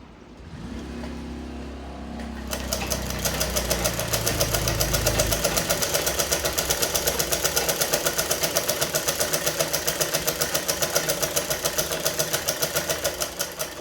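A sewing machine stitches a pillow cover. It starts after a soft low rumble and then runs as a fast, even, loud mechanical clatter that continues nearby without a break.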